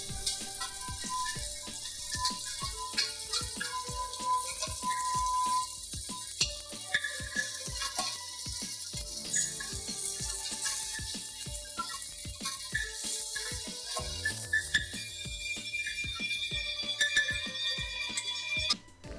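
Fish head frying in hot oil in a kadhai, a continuous bright sizzle with scattered crackles and spatter, close and fairly quiet, with occasional clinks and tones in the background.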